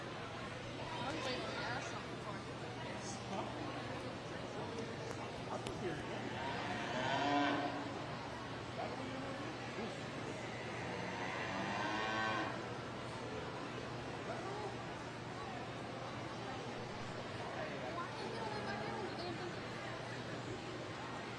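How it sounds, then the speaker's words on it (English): A cow at a youth fair livestock show lets out a couple of low moos under continuous announcer talk and crowd murmur in a large hall. "This may be Kristen's first time showing this cow"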